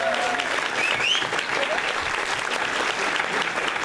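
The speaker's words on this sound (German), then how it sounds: "Ein Applaus für die Komödie Dresden" A theatre crowd at an aftershow party applauds the Komödie Dresden, giving a full, even roar of clapping with a few faint cheers and whistles rising over it.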